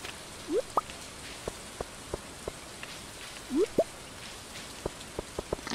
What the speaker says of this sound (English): Pam, can you go out here and stand in the rain?